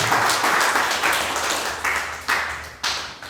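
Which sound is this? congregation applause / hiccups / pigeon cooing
congregation applause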